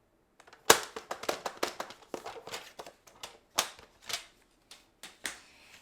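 Paper being scored on a trimmer for a paper pumpkin craft: a run of sharp, close clicks and scrapes in an uneven rhythm, with no voices.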